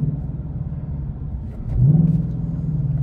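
A 2024 Ford Mustang GT with the 5.0 V8 engine, set in sport mode, gives a deep idling rumble that swells into a brief rev near the middle, then settles back to a steady, throaty drone.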